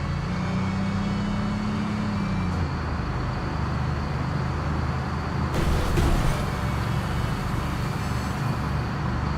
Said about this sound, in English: Sounds like air coming out of the tires, but that was just the water.